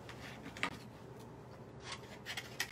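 Paper scraps being trimmed for a handmade card: quiet, close scissor snips and rubbing rasps, a few sharper cuts scattered over a faint background.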